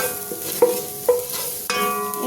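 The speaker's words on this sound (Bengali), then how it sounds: "রসুনটা দিয়ে দিলাম।" Minced garlic fries in about two tablespoons of hot oil for chicken chow mein, a soft sizzle broken by a few scraping stirs of a spoon against the pan.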